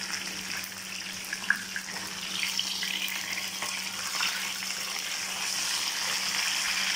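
A pomfret fish fries in hot oil over a low flame, giving a steady, even sizzle and crackle with occasional small pops, close and continuous with no talking.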